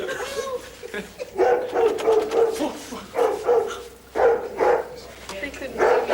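A puppy barks and yips in short bursts among people talking in a home.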